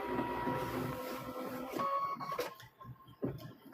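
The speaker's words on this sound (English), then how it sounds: "So now we're going to get stitching on this one." A sewing machine stitches a fall table runner quilt, a steady mechanical whir running continuously for a few seconds before slowing and stopping in brief bursts.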